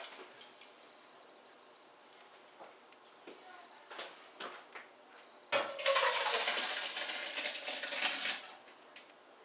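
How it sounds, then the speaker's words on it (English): Cooked vegetables dumped from one pot into a large chili pot: scattered clinks of metal and utensils, then a loud wet sloshing rush of food pouring in for a few seconds. "grab the pot of vegetables, dump it right into the big pot"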